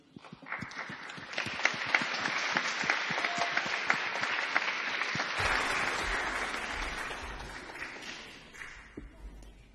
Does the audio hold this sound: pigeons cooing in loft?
no